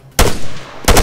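Machine gun fire in the video game Arma 3, heard as two loud, sharp bursts of rapid shots separated by a short gap, with no talking.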